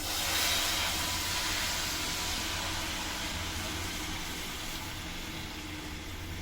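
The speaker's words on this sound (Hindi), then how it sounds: "अब मैं इसमें ऐड करूंगी चाशनी" Sugar syrup hitting hot ghee-roasted semolina for suji halwa, a loud steady sizzling hiss that holds almost unchanged for several seconds, with no voices.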